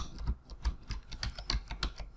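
Rapid, uneven keystrokes on a computer keyboard used to control small robots, with a close clicking clatter continuing throughout and no talk.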